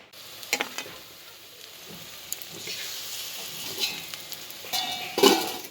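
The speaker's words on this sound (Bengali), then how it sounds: "দেখো আমি এক এক করে পেঁয়াজিগুলো ভেজে নিচ্ছি মুড়ি খাওয়ার জন্য" Onion fritters of onion and green chilli in gram flour batter frying in hot oil, a steady close sizzle that swells as batches go in, with soft stirring clinks and a louder crackling burst near the end.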